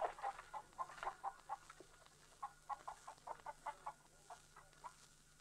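Chickens cluck in a rapid, rhythmic series of short calls, fairly faint and steady throughout, in an old Western setting.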